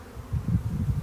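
A low, wavering hum of many honey bees on an exposed hive frame in a recently installed package colony rises and falls in short pulses, close by and unbroken by speech.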